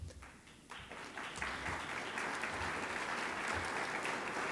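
An association conference audience applauds as board members stand, the clapping swelling from scattered hands into steady, full applause that holds to the end.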